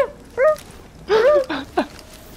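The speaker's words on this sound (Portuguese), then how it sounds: "É um cachorro." Dog barking in The Division video game: a few short, close yelps and whimpering barks in quick succession, separated by brief pauses over quiet background.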